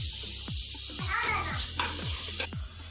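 Mushrooms for a South Indian mushroom gravy hitting a hot pan of masala, steady oil sizzle and hiss with repeated scraping, stirring strokes of a spoon at a regular pace, close up.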